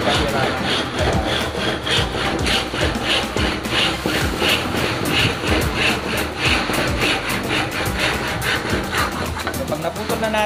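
A hand saw rasps through wood held in a bench vise in steady back-and-forth strokes, loud and close, continuing throughout.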